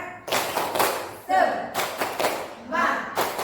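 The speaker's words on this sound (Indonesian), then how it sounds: "kita tepuk tangan dulu yuk" A group of teachers claps hands together in short rhythmic bursts during an education forum session, the claps loud and close with voices mixed in.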